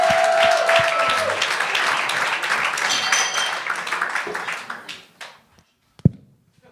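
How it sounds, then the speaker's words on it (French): Audience applause at a comedy talent show, a loud burst of clapping that tapers away over several seconds, followed by a single thump. "Un tonnerre d'applaudissements pour Fabrice Godilla!"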